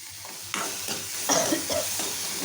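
Green chilies and tomatoes roast in a pan on the stove with a crackling sizzle that starts abruptly. Several stirring scrapes and clinks follow, close and fairly loud, with no talking.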